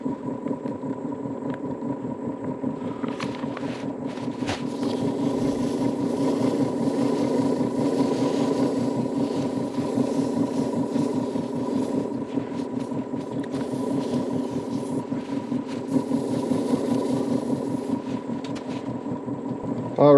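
A wood lathe turns a green ash bowl slowly in reverse at 100 RPM, producing a steady, continuous motor hum and rumble with a faint whine, unbroken and without talking.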